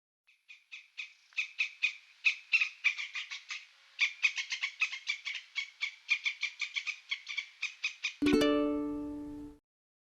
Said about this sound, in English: Squirrel.